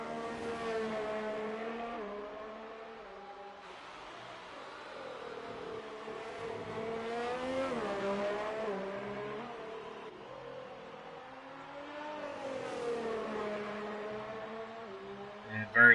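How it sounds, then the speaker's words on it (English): Formula 1 race car engine in a racing video game at the Hungarian Grand Prix, a harmonic whine rising and falling through gear changes as the car harvests ERS energy, steady and fairly loud with faint talk beneath. "You can hear he sounds like he's trying to charge that ERS"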